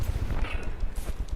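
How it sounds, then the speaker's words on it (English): Missiles and cannon fire in the naval combat game From The Depths, heard as a dense run of rapid, thudding low blasts and impacts that keep going without a break. "Those missiles about to hit me right in the face, but so is my own cannon."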